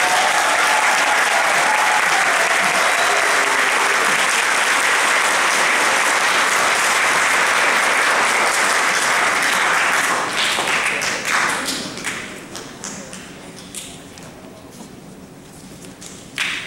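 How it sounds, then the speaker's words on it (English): Sustained applause from a school audience after a high school concert band performance fills the room loudly for about ten seconds, then thins into scattered claps and fades toward the end. "So give them another round of applause."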